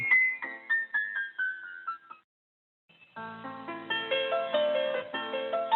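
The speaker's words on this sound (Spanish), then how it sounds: "Ahí escucho un celular, creo." A mobile phone ringing in a classroom plays a melodic ringtone of repeated bright, descending tones. It stops briefly and then resumes as a fuller chord-like melody, fairly loud and alone.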